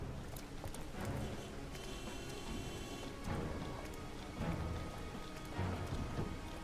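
Steady rain pours down in the video game Heavy Rain with a dense, hissing patter, punctuated by a few low rumbling swells like distant thunder, with no voices.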